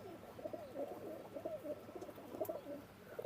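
Pakistani bloodline Teddy pigeons coo in a soft, continuous rolling murmur, several birds overlapping close by in a quiet loft with a faint background hiss.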